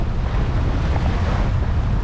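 Steady wind rushing over the microphone with waves washing against the hull of a 20-foot Norfolk Gypsy sailboat, sailed single-handed along the coast in sunshine; a constant, fairly loud roar without pauses.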